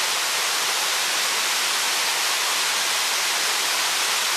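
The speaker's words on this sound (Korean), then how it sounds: "뒤에 이렇게 폭포 소리 들으면서" A waterfall in a forest valley roars as a dense, even wash of white noise, steady and unbroken from start to finish with no voices.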